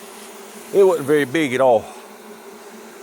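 A swarm of honeybees hums steadily nearby while someone briefly speaks over the buzzing.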